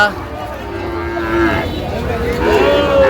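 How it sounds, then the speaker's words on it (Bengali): A four-month-old bull calf moos nearby at a cattle market, a drawn-out low call followed by a second rising moo, over a background of outdoor farmyard noise. "এই ষাঁড় বাচ্চা"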